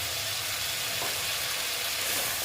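Fried potato and pumpkin pieces go into a hot pan of spices, setting off a steady, close sizzle and frying hiss that runs without pause for the whole moment, with no voices.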